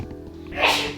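A single sharp human sneeze, a brief breathy burst rising near the end after a quiet intake, heard close.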